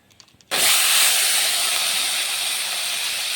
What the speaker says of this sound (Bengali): আমি একটু এখন তেল দিয়ে পুরগুলো একটু বানিয়ে নেব।